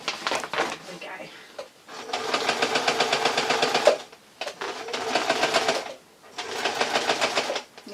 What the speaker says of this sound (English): Just going to go over that, and of course I'm going to reverse stitch just to make it nice and secure.